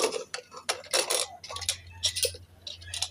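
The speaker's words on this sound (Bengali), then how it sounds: "এবার আমি প্রেসার কুকারের ঢাকনাটাকে খুলে নেব" A pressure cooker of beans and tomatoes has its lid unlocked and lifted: a few sharp metallic clicks and clanks, close and distinct, with brief gaps between them.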